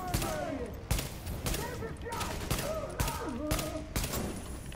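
Gunfire in the video game Tom Clancy's The Division: a series of sharp, evenly spaced shots about every half second, punchy and close, with someone talking over them.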